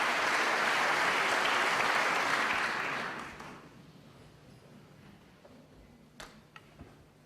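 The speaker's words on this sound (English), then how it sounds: "You might have heard some applause a little while ago" Crowd at a snooker tournament applauds a result on another table, a loud sustained burst of clapping that fades out after about three seconds into a quiet arena, followed by a couple of faint knocks near the end.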